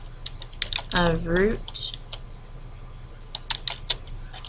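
Quick, irregular keystrokes tap on a computer keyboard, close and crisp, while a voice speaks briefly over the first part.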